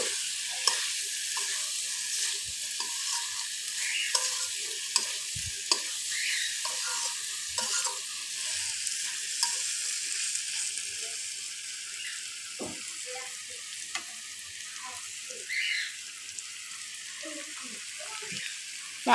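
Egg being stirred into kaitha (kaitha bhaji) frying in a pan: steady close sizzle with repeated scraping stir strokes, no talk.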